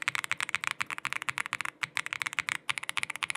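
Rapid, steady typing on a Womier RD75 Pro custom keyboard with its case dampening removed, giving dense, clacky keystrokes up close with a brief pause midway and no talking.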